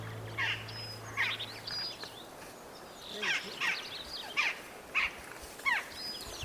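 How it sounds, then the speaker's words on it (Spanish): Jackdaw calls, a series of short, high, sharp chirping notes repeated about every half second to second, moderately near and fairly clear over a soft background hiss. "Esto es una grajilla y tiene el sonido más agudo de todos"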